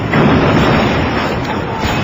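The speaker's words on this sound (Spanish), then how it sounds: "A cañonazos destrozaron ese puente" Cannon fire destroys a bridge in a loud, sustained blast of dense rumbling noise with no clear separate shots, filling the whole moment without any voices.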